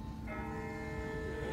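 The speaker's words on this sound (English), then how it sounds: "That's not the same bell as before. This one's further off." A distant bell tolls in The Walking Dead video game, a sustained ringing tone that carries steadily from far off over a low background rumble.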